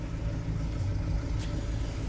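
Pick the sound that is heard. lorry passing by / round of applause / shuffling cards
lorry passing by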